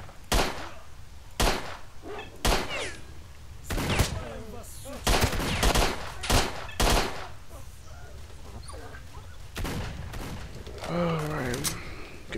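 Gunfire in the S.T.A.L.K.E.R.: Shadow of Chernobyl video game: repeated sharp loud shots at irregular intervals with ricochet whines and thuds, a player's voice talking in between.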